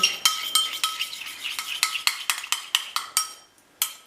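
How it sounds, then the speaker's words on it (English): A spoon scrapes and clinks rhythmically around a bowl while steak sandwich sauce is stirred together with a chopped pickled gherkin, giving a steady run of bright, close taps with no talking. "and we've got 1 pickled gherkin. Mix that all together."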